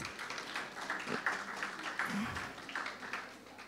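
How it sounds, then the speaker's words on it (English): Faint applause from an audience at a journalism forum giveaway, a steady soft patter of clapping mixed with some murmured voices, continuing evenly for a few seconds. "Give them a round of applause"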